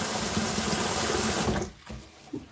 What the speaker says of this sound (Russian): Обычной проточной водой помыть булгур.